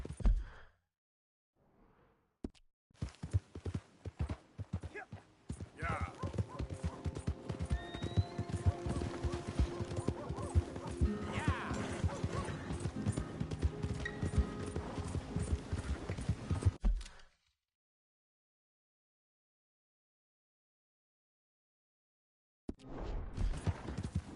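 Horse hooves clip-clopping in a PS4 video game, a fast, steady run of close hoofbeats lasting several seconds before cutting to silence.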